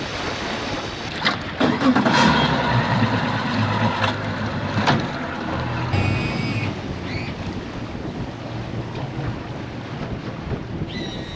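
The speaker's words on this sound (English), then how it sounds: "we are down here testing the boat on the Burnett River" A brand-new boat under test on the Burnett River, its engine drone running steadily beneath heavy wind buffeting on the microphone, with a louder gusty surge early on and no talking.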